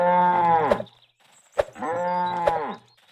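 Cows in the video game Vagabond moo twice in long, loud, drawn-out calls, each cut off with a sharp hit, alongside a punchy thud in between.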